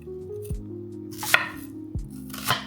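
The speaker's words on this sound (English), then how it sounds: "We're also gonna quarter up some onion" A knife cutting an onion into quarters on a board, three distinct firm chops spaced about a second apart, close and clear with quiet gaps between.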